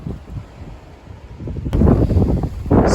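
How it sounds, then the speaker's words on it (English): Strong wind on a mountain ridge along the Blue Ridge Parkway on the Appalachian Trail buffets the microphone with a low, continuous rumble that gusts louder toward the end. "It's windy, but I love it."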